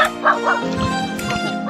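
Several short dog yips and bow-wow barks close by at the start, with a steady background hum and harmonic drone continuing underneath.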